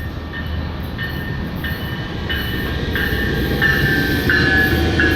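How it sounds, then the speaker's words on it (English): A commuter train passes on the Orange to Irvine line, a steady loud rumble of rail cars with rhythmic wheel clatter and faint metallic squeals, growing slightly louder as it goes by, with no voices. "Love me some train."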